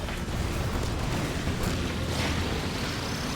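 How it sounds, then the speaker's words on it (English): Cannon fire in the racing video game Kirby Air Riders comes as a dense, loud rumbling blast that roars continuously throughout, heavy in the low end with a brief sharp burst near the middle. "Cannon fire!"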